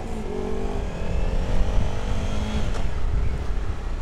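A Suzuki V-Strom 1000XT motorcycle pulls away at low revs, its engine note rising smoothly as it accelerates, close and fairly loud, with no talk.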